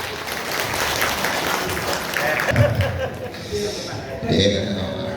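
A crowd applauds a chairman at a 100th-anniversary Nahdlatul Ulama gathering in the MWC NU Genteng hall. The clapping is a steady, dense wash lasting the whole stretch, with a louder swell near the end.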